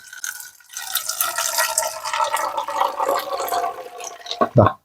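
Strained herbal pesticide solution pours into a garden sprayer as a continuous trickling, splashing stream lasting several seconds, close and fairly loud, ending with a clunk.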